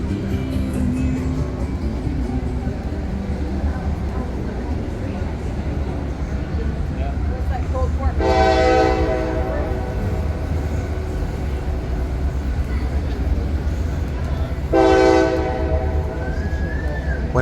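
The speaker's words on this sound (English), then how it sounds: "Let's go over here and just see that train a little bit." A train sounds its horn twice, each blast lasting about a second, over a steady rumble of rail cars and general outdoor noise.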